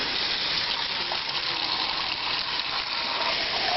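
Ordinary tap water gushes steadily into a container already holding salt, a continuous close rushing pour lasting the whole stretch with no talk over it.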